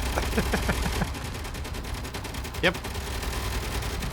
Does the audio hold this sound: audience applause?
no